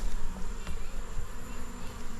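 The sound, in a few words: honeybees buzzing in hive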